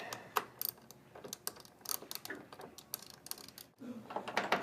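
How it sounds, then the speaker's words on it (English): Mount bolts on a GMC AMP Research PowerStep running board being loosened, heard as rapid close ratchet clicks in quick irregular bursts, fairly faint with no talking. "So go ahead and loosen your rear mount bolt and the front."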